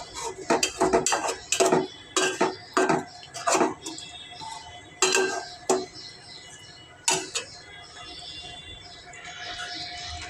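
Meat being stirred and sautéed in a pot, a utensil knocking and scraping against the metal in a run of sharp, irregular clanks that gives way to a softer, steady sizzle near the end; no one speaks.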